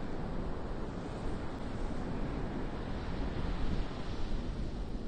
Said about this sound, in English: Boy, what an ocean today.